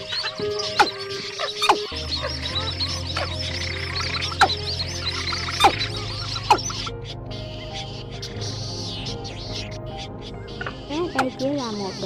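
Recorded calls of field birds, including quail and other wild fowl, play as a hunting lure for night net trapping in northern Vietnam, with repeated sharp chirps and whistles over a steady electronic hum.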